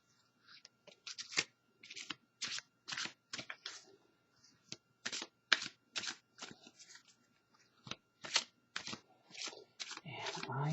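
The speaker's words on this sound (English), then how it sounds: "I want to go ahead and give these a shuffle." A deck of oracle cards is shuffled by hand in a long run of crisp, rapid riffling bursts, close and fairly quiet, with a soft rustle near the end.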